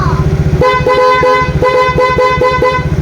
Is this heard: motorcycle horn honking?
yes